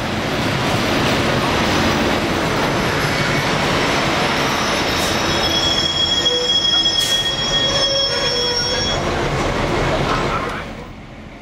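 A class SU46 diesel locomotive hauling train EC248 pulls into Forst station with a loud continuous rumble and sharp high-pitched wheel squeals. A voice is heard over it, and the noise fades at the end.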